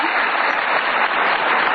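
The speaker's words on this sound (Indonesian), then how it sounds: "kita kasih tepuk tangan dulu dong" A television studio audience applauds, a dense, even wash of many hands clapping that fills the short stretch without pause.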